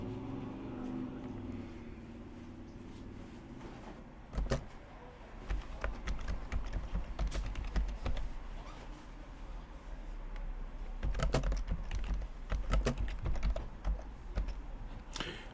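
Computer keyboard typing runs alone and fairly close, with irregular bursts of clicking keystrokes over a low background hum, thickening into dense clusters midway and near the end.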